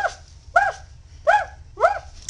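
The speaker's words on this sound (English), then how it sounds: "I think it's a police dog." A dog gives four short, sharp barks at an even pace close by, with a low background hum between them.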